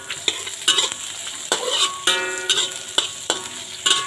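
Plenty of white onions frying in a pan for squid adobo are stirred, giving repeated scraping and clattering strokes roughly every half second over a bright, steady sizzle, close and fairly loud.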